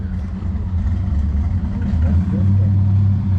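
A truck engine at a car show gives a low, steady rumble close by that swells slightly near the end, suggesting a rev under a continuous idle.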